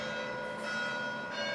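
A church bell rings with a sustained, resonant hum of overtones, steady and fairly loud, fading slightly before a sharp sound at the end.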